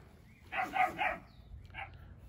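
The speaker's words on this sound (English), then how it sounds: "Sorry for my dog barking, she's barking at my cat." A puppy indoors barking at a cat: a quick run of three yapping barks followed by a softer single bark, faint and somewhat distant.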